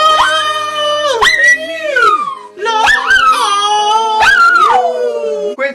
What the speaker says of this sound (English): Quincy, howl like a wolf.